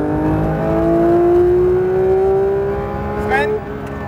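A car accelerates hard on a race track, its engine whining up through the revs and then dropping briefly at a gear change, loud and close with a harsh, steady drone.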